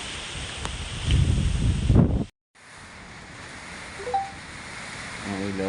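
Strong typhoon wind in Malolos, Bulacan roars and buffets the microphone in heavy gusts, then cuts out briefly before a softer steady rush returns with a few faint tones.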